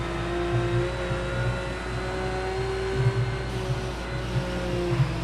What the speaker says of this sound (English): On the throttle. Bringing the car up nicely through the gears.